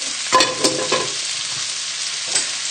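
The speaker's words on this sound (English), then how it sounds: "and then give this a nice stir together" Tagliatelle being stirred into a creamy chicken liver and bacon sauce in a pan, a soft bubbling sizzle with a few close scraping and clattering stirs near the start and one more later.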